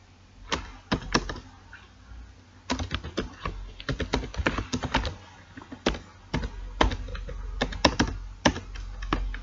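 Keys on a computer keyboard clacking in irregular bursts while Python conditional code is typed, close and fairly loud with short pauses between runs of keystrokes.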